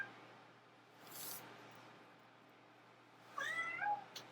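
A cat gives a short meow near the end in a quiet room, after a brief soft rustle earlier.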